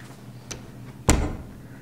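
A door swings shut with one sharp, close thud after a faint earlier click, leaving a quiet room hum.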